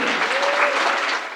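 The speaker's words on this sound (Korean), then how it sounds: "수고하셨다고, 고생하셨다고 박수." A church congregation applauds steadily for a returning short-term mission team leader, a dense, even wash of clapping that fades slightly at the end.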